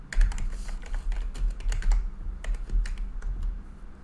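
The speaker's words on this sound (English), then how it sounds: "I will type in my organization name." Rapid typing on a computer keyboard while entering an organization name, with dense, close, fast clattering key presses in uneven bursts, alone without talk.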